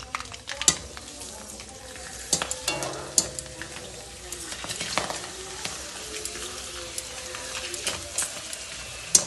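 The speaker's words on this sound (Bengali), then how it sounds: "সবগুলো ভেজে নেবো" Chonga fry in a hot wok with a crackling, bubbling sizzle, broken by frequent sharp pops and spatters and a few utensil clicks, close and moderately loud with no talk.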